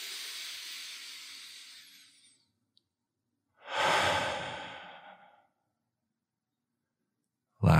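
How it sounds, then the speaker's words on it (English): Two slow, deep breaths in a guided meditation: a long airy inhale fading out over two seconds, a pause, then a fuller, louder breath that swells and trails off, with no talking. "a nice juicy breath, breathing in, holding it at the top"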